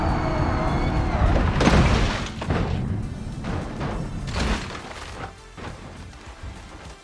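Car crash in a virtual reality police chase video game: loud crunching impacts and thuds early on, followed by several more scattered bangs that fade toward the end.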